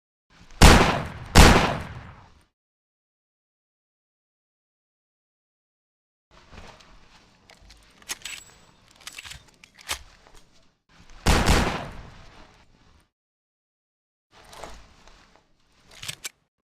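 Gunfire in the shooter game Hidden & Dangerous 2: two loud opening shots, then a stretch of silence, then scattered bursts and single shots with clicks and clatter between them, sharp and close.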